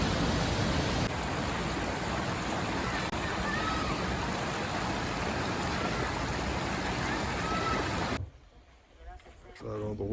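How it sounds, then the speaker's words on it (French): Champy Falls on the Bolaven Plateau roars as a steady broadband wash of falling water for about eight seconds, then drops off abruptly into quieter ambience. "Ça s'appelle les Champy Cascades, Champy Falls"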